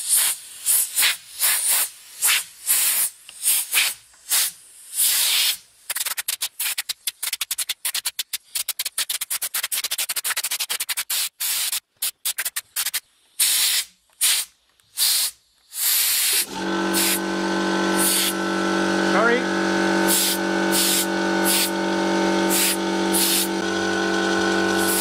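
Compressor-fed compressed air blasting through Fujitsu laptop fans in loud hissing bursts, short stuttering spurts at first, then a long continuous blast in which the spinning fan adds a whining tone, close up with no talking.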